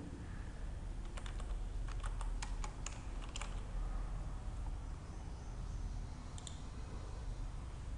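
Clicks of typing on a computer keyboard while a document form is laid out in Java code, arriving in short scattered bursts near the start and again briefly toward the end over a steady low background hum.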